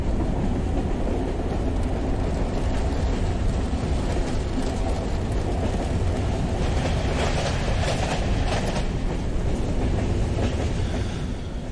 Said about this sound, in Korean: 나의 미래와 여자친구를 찾아 런던행 기차에 몸을 실었다.